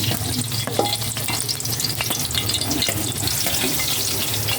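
Steady oil sizzle and crackle from a frying pan of pork, using oil left from frying the pork, continuous and close, with a few clinks of a utensil against the pan.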